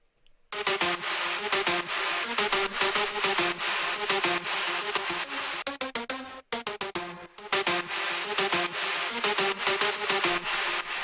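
Plucky big room festival synth lead built in FL Studio, now heard with its processing chain on: a loud, full, wide stream of rapid bright plucked notes with a brief dropout near the middle and no voices.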